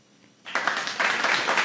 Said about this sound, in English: Everybody give a big round of applause for Seth